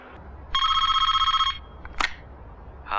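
A telephone bell rings in one loud, close burst of about a second, followed by a brief click and the start of a second ring, with no voices over it.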